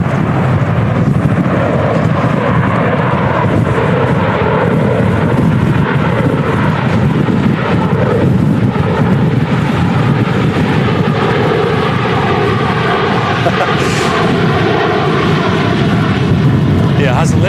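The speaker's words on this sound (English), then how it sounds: "It's probably not as hard work as the pilots are having to put in, to get these aircraft down in such adverse wind conditions here at Manchester" Jet airliners landing at Manchester Airport in extreme storm crosswinds, a loud continuous engine roar and rushing wind dominating throughout, with people talking over it.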